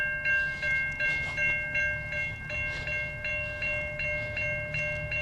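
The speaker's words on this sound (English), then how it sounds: "There is a train coming from this way." A train approaches along a rail line at sunrise: a steady low rumble under bright ringing tones that pulse in a regular rhythm, fairly loud and continuous, with no talking.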